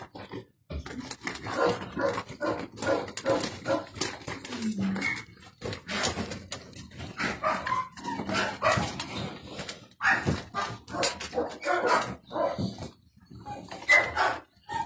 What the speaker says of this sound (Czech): Štěňátka jsou vyhladovělí, vystrašení, ale už baští dostali granulky štěněcí.